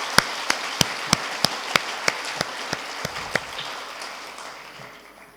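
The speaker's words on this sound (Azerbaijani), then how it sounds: "Xahiş edirəm onları bir güclü alqışlarla alqışlayaq." Audience at a school's 90th anniversary jubilee applauding retired teachers, heard as a run of about a dozen sharp, evenly spaced claps that gradually fade into a soft wash of room noise.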